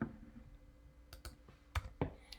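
A computer mouse and keyboard in a quiet room: a few faint, sharp clicks and key taps scattered over a couple of seconds, close and soft.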